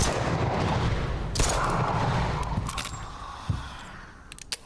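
Gunfire in the video game SAND: Raiders of Sophie, a loud rattling barrage with a couple of sharp distinct shots, layered over a steady rumbling background.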